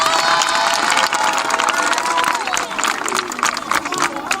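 A school crowd at Collège Saint-Gabriel cheers and claps loudly, many children's voices shouting and whooping over steady applause, dense and close throughout.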